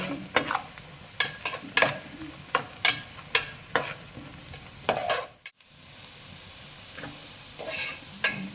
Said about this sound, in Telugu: ఇప్పుడు ఉల్లిపాయలు పచ్చిమిరకాయలు వచ్చేసి వేగాయి త్వరగా, ఇట్లా వేగాలన్నమాట.